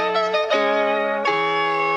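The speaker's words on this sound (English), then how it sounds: "I stretched out the audio right before it goes into the next section." A melodic music loop plays steadily, then its final note is time-stretched into a long held tone that carries into the next section; the tones sound bright and close, with no voices.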